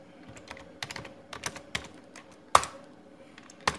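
Close, quiet typing on a computer keyboard, a quick irregular run of key clicks with one sharper louder tap near the end, heard alone.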